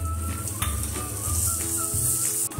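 A tempering for yogurt, with green chilli, cumin and coriander added to hot oil and asafoetida after the gas is turned off, gives a brief, close sizzle with a few soft knocks. A steady hum runs underneath.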